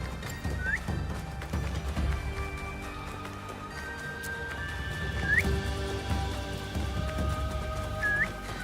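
A horse in Assassin's Creed Shadows whinnies several times, with short rising calls spread across the stretch over clip-clopping hooves and a low ambient game soundscape, with no one talking.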